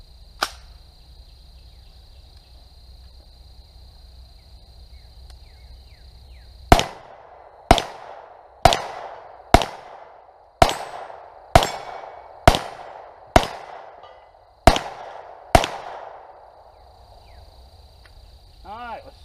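A CZ Scorpion Evo fires nine sharp shots at Defcon steel targets on an outdoor range, loud single reports spaced about a second apart, each with a ringing decay, following a quiet stretch.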